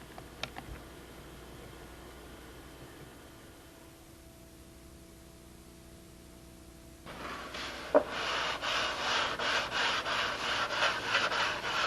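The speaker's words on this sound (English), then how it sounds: "And tonight I'm just going to finish up this sanding." Quiet, steady hiss gives way to louder rhythmic scraping strokes of sandpaper on wood, repeating evenly near the microphone.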